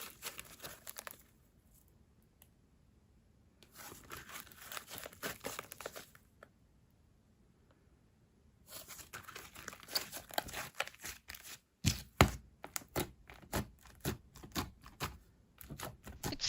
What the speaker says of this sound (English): It makes nice bubble pops.